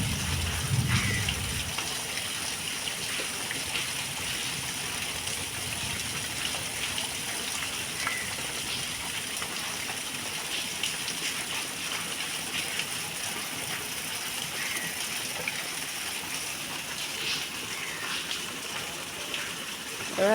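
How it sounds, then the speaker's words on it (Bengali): Rain falls steadily on garden plants and taro leaves, a dense continuous patter and hiss close by that stays even throughout with no voices. "এবার বৃষ্টিটা একটু কমে গেল,"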